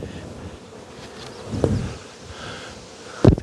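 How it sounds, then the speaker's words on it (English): Honey bees hum and buzz around an opened hive during colony shaking and supering, a close continuous drone with a few louder passes near the microphone and brief handling noises. "I'm surprised the bees aren't more cranky."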